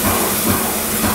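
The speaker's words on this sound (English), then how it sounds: "And there's the loco." Steam locomotive 60163 Tornado at Didcot Railway Centre gives off a loud, continuous hiss of steam, a broad and steady rush heard close by.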